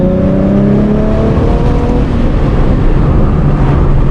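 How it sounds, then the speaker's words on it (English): A manual car's engine drones loudly and close as it downshifts while braking, its pitch stepping down as revs drop, with rumbling road noise throughout. "something like this where I just downshifted while braking"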